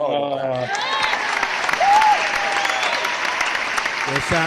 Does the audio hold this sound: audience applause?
yes